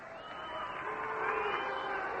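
A 1948 World Series baseball crowd in Boston reacting to a runner crashing into the catcher, a broad distant roar of voices that swells gradually and holds steady.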